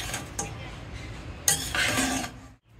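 Boiled egg grated over freshly cooked instant noodles in a home kitchen, giving short scraping strokes and a longer rasping stretch near the middle, close and moderately loud with light clinks around it.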